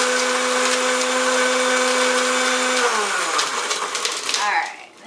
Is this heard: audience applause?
no